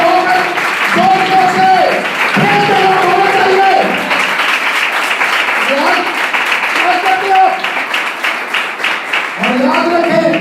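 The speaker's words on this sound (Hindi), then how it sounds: "तालियां तो होनी चाहिए" A church congregation claps and cheers during a sermon, with a steady wash of applause running throughout while a preacher's voice rises over it in bursts.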